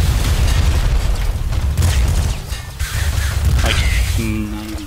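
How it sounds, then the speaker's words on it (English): A flame shotgun fires in the video game Nuclear Throne, giving loud, dense booming blasts over continuous noisy game audio, with a short rising electronic tone near the end. "Flame shotgun is like the absolute best shotguns."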